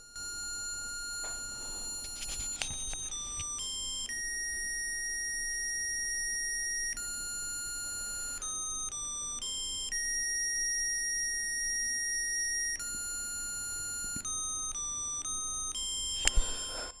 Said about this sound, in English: And you can hear that I have a custom a notification sound programmed on this SenseCap.